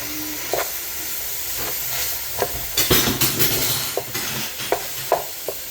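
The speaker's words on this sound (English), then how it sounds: "we're gonna do 1/2 a pound of ground beef, 1 onion, 2 tablespoons of butter. And we're gonna saute all this together" Half a pound of ground beef, an onion and butter sautéing together in a pan for German-style boiled cabbage, a soft steady hiss punctuated by several close spatula scrapes and clacks.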